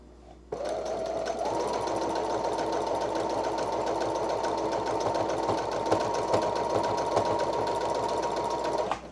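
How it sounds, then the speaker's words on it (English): A sewing machine stitches an elastic band into a pair of pants being resized. Its rapid, even motor chatter is close and continuous for about eight seconds after it starts, with no voices. "Let me sew this damn thing in so I can finish."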